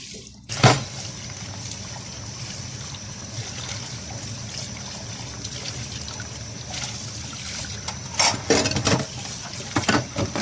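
Soaped dishes being rinsed under a running kitchen tap, with a steady trickle and splash of water and occasional clinks of dishes and cutlery, louder bursts of handling near the start and end.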